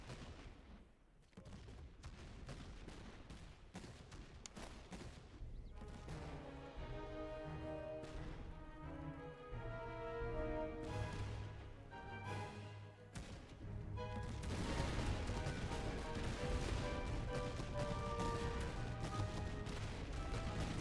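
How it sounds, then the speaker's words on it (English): Troops firing at will in the battle game Master of Command: irregular, overlapping musket shots crackle through a busy battlefield mix, with tonal music or ambience underneath and a denser, louder stretch of gunfire toward the end. "these guys are firing at will, pretty much, not volley fire"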